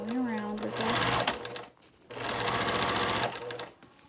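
A sewing machine with a quarter-inch foot stitches a quilt in two loud, fast bursts separated by a brief pause, with a voice speaking beneath the first burst.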